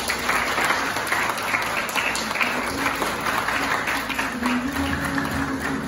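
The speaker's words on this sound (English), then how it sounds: "Let's give them another round of applause as we welcome them back on the stage." Steady, loud applause from a theatre audience for the returning cast of a Noli Me Tangere stage production, dense clapping sustained without a break from start to finish.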